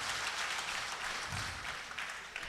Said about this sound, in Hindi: अपने सम्मान में तालियां जरूर बजा लीजिएगा